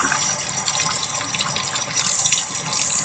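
Hot water pouring from a tap for a sourdough starter, a steady close gushing stream that runs continuously without a break.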